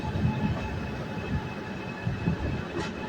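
HimSagar Express train running along the rails, a steady close rumble with rhythmic low wheel thumps and faint squeal throughout, no voices.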